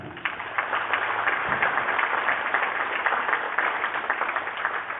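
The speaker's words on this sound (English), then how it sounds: "Give them a round of applause for that" Crowd at a school athletic awards night applauds a team, a continuous muffled wash of many hands clapping, steady and fairly distant for several seconds.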